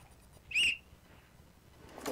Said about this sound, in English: Okay, Laurel, you can blow the whistle now to get him to change the slide.